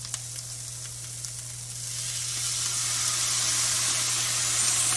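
Vegetables cook in a pan after a little water is added. A quiet frying crackle grows into a loud, steady steam hiss that fills the rest of the sound.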